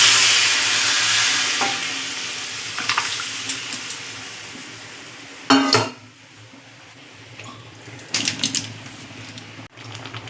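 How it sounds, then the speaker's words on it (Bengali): Pumpkin greens with pea dal and sugar are stirred in a hot pan, giving a steady frying hiss broken by scraping and clattering of a utensil against the metal, close and continuous with no talking. "চিনি দিয়ে একটু নাড়াচাড়া দিয়ে দেবো।"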